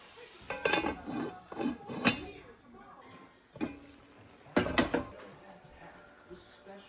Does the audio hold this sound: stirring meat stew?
yes